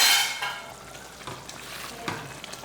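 Brinjal and egg curry sizzles steadily in a pan while a utensil stirs and scrapes, with a few soft clinks against the metal; no voices.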